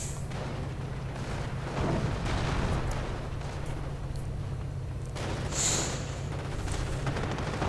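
Continuous low rumble of battle from a WWII strategy game as a fresh anti-tank gun opens fire on a King Tiger tank, with dull booms and crackling bursts layered over each other at moderate volume.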